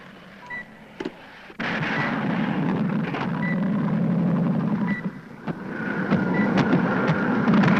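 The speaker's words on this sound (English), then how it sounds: "That sounds like a plane." A light civilian plane, apparently in trouble, approaches from a distance, its steady engine drone rising and holding under rushing wind, with a few brief knocks and no talk.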